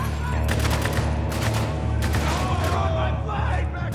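Rapid bursts of gunfire from the video game Spec Ops: The Line, dense and loud, with heavy layered shots and low booms running throughout.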